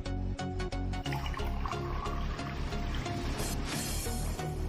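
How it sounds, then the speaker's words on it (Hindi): Cold water pours steadily into a magic colour-changing cup, a continuous splashing, gurgling stream with small bright clinks, close and fairly loud throughout with no talking. "अगर हम जल्दी देखना चाहते हैं तो क्यों ना इसमें ठंडा पानी डाल दिया जाए"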